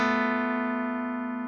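Guitar notes played with the index finger slid down a half step, a single sustained, slowly decaying tone ringing clearly on its own.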